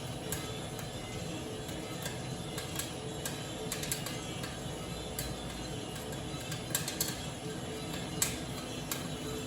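Faint, rapid crackling pops scattered over a steady rumbling whir as Peruvian Black Honey Geisha coffee beans pop irregularly inside a running roaster.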